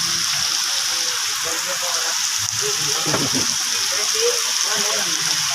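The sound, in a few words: heavy rain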